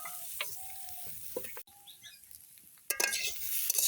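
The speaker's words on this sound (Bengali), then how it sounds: "দিয়ে এখন আলুটা একটু ভাজি ভাজি করে নিতেছি" Potatoes fry in a pan with turmeric, green chili and salt in a home kitchen. A quiet sizzle carries on under scattered clinks and scrapes of a utensil against the pan.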